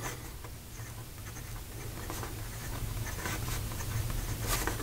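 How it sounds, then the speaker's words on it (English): Montegrappa Moon Landing fountain pen with a medium steel nib scratching across paper in a writing sample, a soft, close, continuous scribble with faint strokes and no talking. "Here we go with the writing sample for the Montegrappa"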